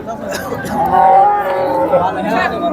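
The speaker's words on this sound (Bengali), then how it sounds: "খুব সুন্দর একটি গরু দেখতে পাচ্ছেন।" A cow at a busy cattle market lows in a long, loud moo close by, while people chatter and talk in the background throughout.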